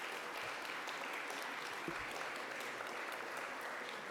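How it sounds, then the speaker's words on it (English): An audience at an awards ceremony applauds steadily, dense clapping that holds at an even level from start to finish. "So, a round of applause for Georges."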